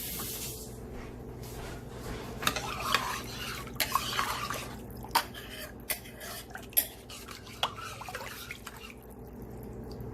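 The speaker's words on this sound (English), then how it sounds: "Rinse my spoon again." A spoon is rinsed under running water in a kitchen while making crock pot beef stew: a quiet water trickle with scattered sharp clinks of metal and drips, close and soft.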